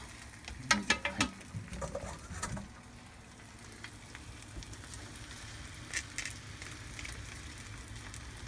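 Eggs sizzle and spatter in a hot pan on high heat as garlic chives are tossed in, with a burst of stirring clatter and crackle early on, then a steady lower frying hiss with occasional pops.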